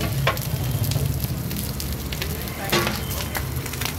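Rice stir-fried in a pan sizzles loudly and continuously up close, with a few sharp crackles and scrapes from stirring breaking through the steady hiss.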